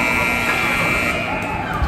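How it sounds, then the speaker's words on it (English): Ice hockey rink buzzer ending the second period, a loud sustained electronic tone held steadily through the clip over faint crowd noise in the arena. "there's the buzzer ending the second period"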